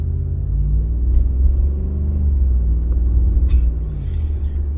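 Gasoline car engine rumbling steadily from inside the cabin while driving, a continuous low droning hum with slight swells in pitch, close and fairly loud, with no speech.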